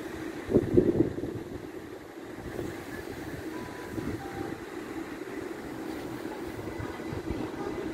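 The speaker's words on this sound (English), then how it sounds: "Train on the left is to Great Malvern by Oxford." A train rumbles through Reading station, a low continuous rolling drone with a brief louder burst near the start and distant station ambience around it.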